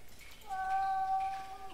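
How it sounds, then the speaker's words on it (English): A cat meowing from behind a wall in the video game The Last Door, one drawn-out, fairly faint, muffled meow rising then trailing off over quiet ambience. "Cat seems behind this wall."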